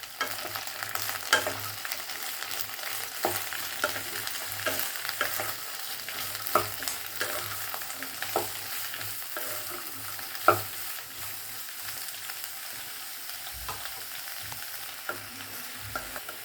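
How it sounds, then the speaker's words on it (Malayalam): Chopped onion sautéing in a pan for an okra (lady's finger) masala curry, a steady close sizzle with scraping stirs and occasional sharper clicks of the spoon against the pan, no voices. "നല്ലോണം വഴറ്റുക."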